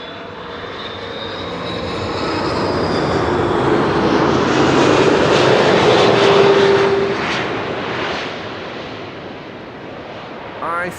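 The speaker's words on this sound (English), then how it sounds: "Saudi flight 933 arriving from Jeddah with Jeddah Nights" A Saudi airliner, flight 933 from Jeddah in Jeddah Nights livery and first flown in 2011, lands at Amsterdam Schiphol Airport. Loud jet engine roar swells over several seconds, peaks with a whine, then fades, heard outdoors amid wind.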